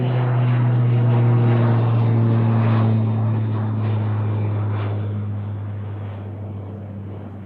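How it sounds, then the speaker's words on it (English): A UPS Boeing 747-8 cargo jet takes off at Anchorage's Ted Stevens airport with a loud, steady engine roar and low droning hum that slowly fades as it pulls away. "So we're waiting on our UPS takeoff here, 747-8."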